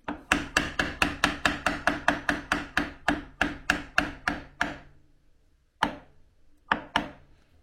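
A bandsaw guide block being tapped into place against the blade: a rapid run of about fifteen sharp, close wooden taps over five seconds, then two further isolated knocks after a pause.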